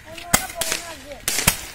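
Diwali firecrackers burst nearby in four sharp, loud cracks spaced unevenly across under two seconds, with faint outdoor background sound between the bangs.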